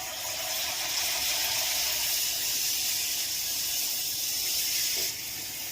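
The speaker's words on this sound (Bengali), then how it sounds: "এবারে হাতায় করে একটু একটু ব্যাটার নিয়ে আমি এর উপরে দিয়ে দেবো বড়ার আকারে।" Malpoa batter made with palm fruit sizzling and frying in hot oil in a kadai, a steady, loud, close hiss that holds evenly throughout and eases slightly near the end.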